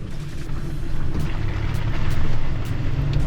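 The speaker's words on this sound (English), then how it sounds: "I can hear a bit of whirring from the electric motor" An electric-converted Gypsy off-roader drives along, its electric motor giving a low, steady whir under road and wind rumble, fairly loud and continuous with a slight swell in the middle.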